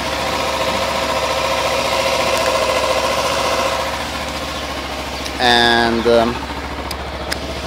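A Kawasaki Ninja motorcycle engine idles with a steady low throb, then revs sharply for a short burst before settling back to idle, while someone talks over it at the start.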